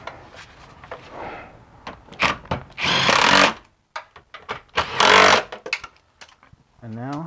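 Bolts are threaded onto a BMW E46 manual transmission during installation, heard as close metallic clinks, scrapes and quick rattling bursts of a tool in irregular spurts, with a voice speaking briefly near the end.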